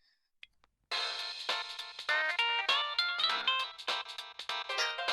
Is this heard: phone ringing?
yes